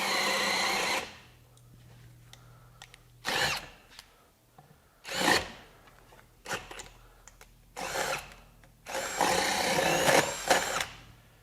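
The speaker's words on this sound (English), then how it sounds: "see if it will actually drill in speed 2 in this pressure treated wood here" Ryobi HP cordless drill in speed 2 with a 1-inch spade bit boring into pressure-treated wood, running in five or six loud whirring bursts that stall and restart, with quiet pauses between.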